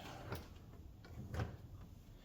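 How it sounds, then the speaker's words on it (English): A wooden drawer sliding out of a newly built cabinet, giving soft, low scraping rumbles in two or three short pushes, quiet and close, with no talk. "Get this drawer out."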